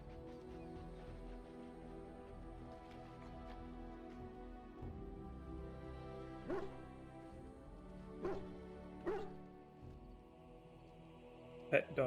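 A pet dog in the fantasy role-playing video game Dragon Age Origins, giving soft whimpers and yips under quiet background music, with a few sharper barks near the end.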